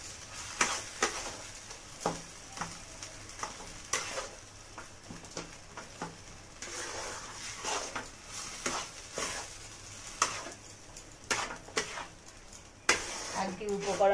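A pan of dhokar dalna ingredients is stirred dry with a utensil, giving a steady run of quiet scraping and tapping strokes that continue throughout.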